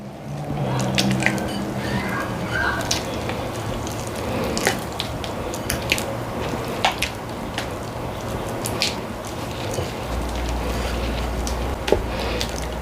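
Sponge cake batter stirred by hand after milk is added, giving soft, wet squishing and sloshing strokes that repeat steadily up close at a moderate level, with a low hum entering near the end.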